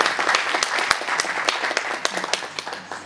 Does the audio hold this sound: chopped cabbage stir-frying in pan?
no